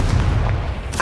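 A Confringo fire spell blast in Hogwarts Legacy booms out as a single loud burst over a steady rumbling game background, ending with a bright crackling flare.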